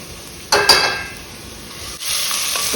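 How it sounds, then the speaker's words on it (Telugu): Onions tipped into a hot pan of oil while cooking dry shrimp shell rasam, a sudden loud sizzle that flares up and settles into a steady frying hiss, close and without talk. "ఉల్లిపాయలు వేస్తున్నాను ఇప్పుడు"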